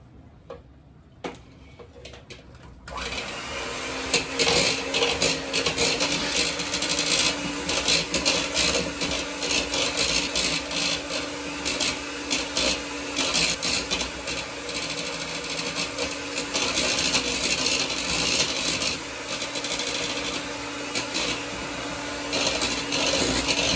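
Sugar being whisked into egg whites for macarons, a fast continuous rasping and ticking of the whisk against the bowl that starts after a few quiet seconds and runs on steadily, close and fairly loud.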